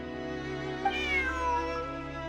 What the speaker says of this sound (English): Bonnie is Pierre's cat.